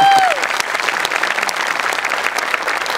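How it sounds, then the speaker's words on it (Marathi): Dense, steady applause from a studio audience at a Marathi comedy show greets a guest being introduced, loud and continuous for the whole stretch, a short whistle-like tone fading at the start. "जोरदार टाळ्या त्यांच्यासाठी एकदा."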